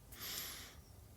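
A single soft inhalation during a calming breathing exercise, one brief, faint, airy breath drawn in close to the microphone.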